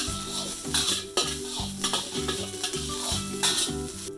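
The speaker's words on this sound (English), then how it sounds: "Toss everything again on high heat to wake up all those flavors." Egg fried rice is tossed in a pan over high heat, with a rhythmic series of scrapes and clatters from the spatula and pan over a continuous loud sizzle, up close.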